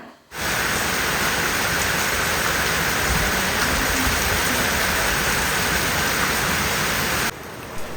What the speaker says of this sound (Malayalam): നല്ല മഴയാണ് പുറത്ത്.